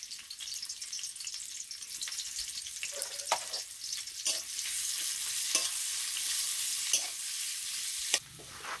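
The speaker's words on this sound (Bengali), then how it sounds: "পেঁয়াজটাকে আগে তেলে ভালো করে ভেজে নেব" Onion frying in a little oil makes a bright, hissing sizzle with bursts of crackle and intermittent scraping as it is stirred, close but moderate in level, with no speech.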